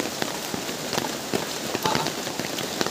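Heavy rain pours steadily through a forest, a dense hiss of drops with scattered sharper hits on leaves and surfaces, close and continuous throughout.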